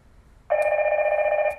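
A Hikvision intercom indoor unit rings on an incoming call, a loud steady electronic tone that starts abruptly and holds on alone without pause.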